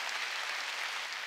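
Church congregation clapping together at a New Year's Eve service, a dense, steady burst of applause filling the room without pause.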